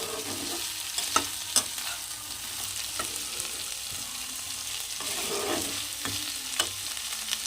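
Drumstick vegetables frying in a pan with spices for a rui fish curry, stirred by spoon with sharp clinks and scrapes over a continuous gentle sizzle, no one talking.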